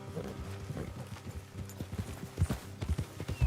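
Hooves clip-clop around camp in Red Dead Redemption 2. Steps start soft and scattered, then grow into a louder, faster run of close thuds near the end, over a low ambient hum.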